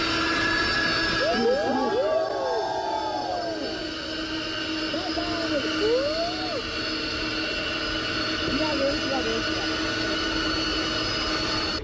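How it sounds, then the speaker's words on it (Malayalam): Four Pratt & Whitney engines on an Air India Boeing 747 spool up for takeoff, giving a steady, continuous roar with sustained whining tones and a few rising and falling whistles throughout. "ത്രോട്ടിലുകൾ പതിയെ മുന്നോട്ട് നീക്കി പ്രാറ്റ് ആൻഡ് വിറ്റ്നിയുടെ ആ 4 എഞ്ചിനുകളുടെയും ശബ്ദം കൂടി വന്നപ്പോൾ"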